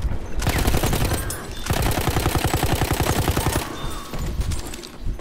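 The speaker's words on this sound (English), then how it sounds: "Machine gun over there." Rapid machine gun fire in a shooter video game, long rattling bursts of dense automatic shots broken by short pauses, loud and close.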